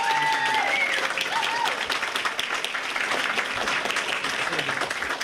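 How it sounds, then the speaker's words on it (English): Audience at a Hope for Palestine event in London breaking into sustained applause, a dense wash of clapping filling the hall, with a few faint voices and cheers mixed in. "I want to just give them all a massive round of applause."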